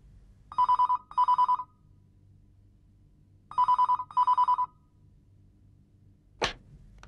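An electronic telephone bell rings in two double bursts with a pause between, clear and close in a quiet room, followed by a sharp click.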